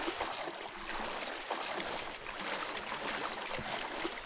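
Underground river water running in the Minetest MineClone5 game, a continuous soft rushing and trickling flow at low, even volume with no voices.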